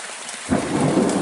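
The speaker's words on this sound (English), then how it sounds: "I don't know why people are scared of thunder." A thunderstorm in Okehampton with heavy rain, a constant hiss of rainfall that swells into a deep rumbling crack of thunder halfway through, loud and close.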